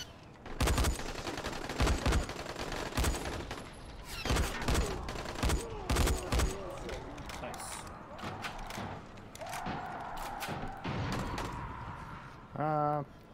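Gunfire bursts in the zombie game Dying Light during Old Town side missions: a rapid volley of loud, sharp shots, then scattered single cracks and a final burst, with voices talking between the shots.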